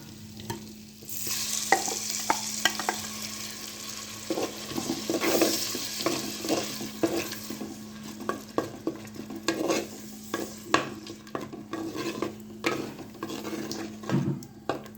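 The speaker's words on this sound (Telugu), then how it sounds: "ఇప్పుడు ఈ మసాలాని పచ్చివాసన పోయేంత వరకు వేయించుకోవాలి." Ginger garlic paste and masala paste fry in a pan for a vegetable biryani, a steady sizzle under repeated scraping clicks of a spoon stirring, close and fairly loud with no talking.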